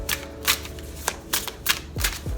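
Tarot cards are shuffled by hand in a series of quick riffling bursts at an irregular pace, close and moderately loud, with a couple of soft thuds and no talk.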